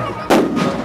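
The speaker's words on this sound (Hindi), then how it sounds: "ये जो धमाका है ना, ये बोगाजन का धमाका है, देखा, सुना आपने," A firecracker goes off at a Chhath Puja riverside ghat on the Dhansiri River in Bokajan: one sharp loud bang followed by a second softer burst, close by against outdoor crowd murmur.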